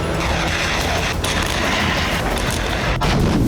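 Russian artillery fire on the front between Donetsk and Zaporizhzhia, a dense, loud rumble of booms and blasts that rolls without pause, with sharper reports standing out near the end.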